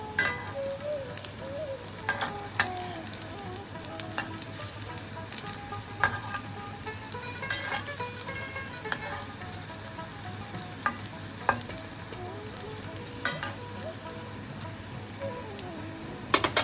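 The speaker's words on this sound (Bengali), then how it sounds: "বড়াগুলোকে আমরা উল্টে পাল্টে ভেজে নেব।" Oil sizzles and crackles steadily throughout as poppy seed fritters fry, with scattered pops and the occasional scrape of a utensil, with no voices present.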